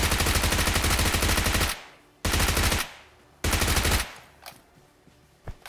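Gunfire from the PUBG Mobile video game comes in three long bursts of rapid automatic fire, loud and close, followed by a couple of fainter single shots.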